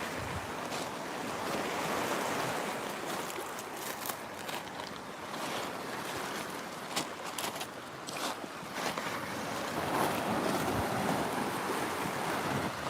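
Waves wash steadily onto a rocky shore with quartz and quartzite cobbles, a continuous broad surf roar layered with gusty wind buffeting the microphone, with no talking.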